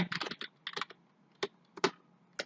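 Fingers type a name on a computer keyboard in quick bursts of close, crisp key clicks, separated by short pauses, with no talking.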